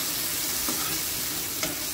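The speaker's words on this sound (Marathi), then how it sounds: "हलकं जरा तेलामध्ये छोलेला पण फ्राय करून घ्यायचं" Chickpeas fry in hot oil with softened tomato, producing a steady, close hiss of sizzling with a couple of faint stirring clicks.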